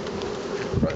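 Bees buzzing around a newly populated beehive, a close, dense and continuous hum that swells slightly near the end.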